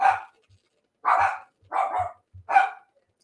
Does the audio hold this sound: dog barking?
yes